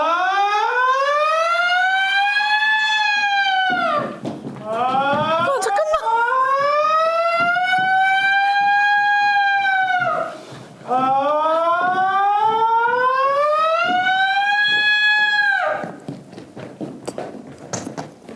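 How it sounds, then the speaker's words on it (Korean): A warning siren set off by laughter at an ITZY fan meeting blares in three long, rising-then-falling wails, each loud and close, with short gaps between them. "여러분들이 실제로 웃으실 때마다 경고음 사이렌이 나오게 되는데"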